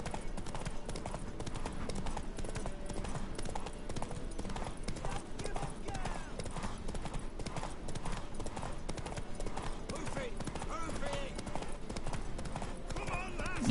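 Hooves from a racing horse in The Witcher 3 pound out a fast, continuous clip-clop, steady and fairly loud throughout, while game characters keep talking over the running hoofbeats.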